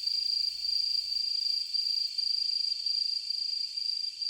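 Cicadas (Meimuna opalifera) sing in the forest of the Imperial Palace in summer, a continuous high, shrill drone that holds steady and loud throughout with no pauses.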